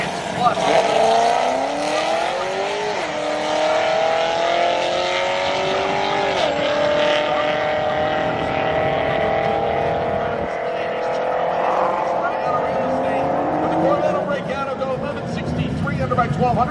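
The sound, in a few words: drag race cars racing, including a 1988 Corvette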